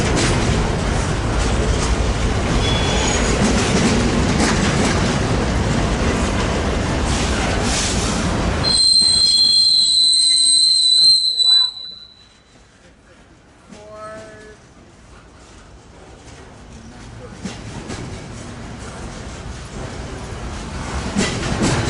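An eastbound port stacker freight train passing at Commerce, a loud continuous roar of rolling cars and wheels with high squeals, then the rumble cuts off and fades to quieter ambience.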